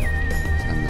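A horse in the Roblox Westbound video game gives a short, clear whinny over a steady low game background, with no talk.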